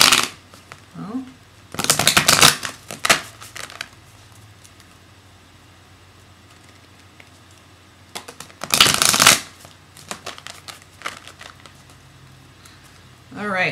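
Oracle cards being shuffled by hand in two rapid riffling, flapping bursts a few seconds apart, close and crisp, with a voice speaking briefly at the start between quiet stretches.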